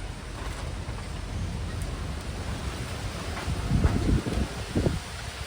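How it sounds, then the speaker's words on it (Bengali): Strong wind blows outside on a rooftop, a broad rushing roar with gusty swells and buffeting bursts toward the end, no talk heard. "বাইরে প্রচন্ড বাতাস হচ্ছে।"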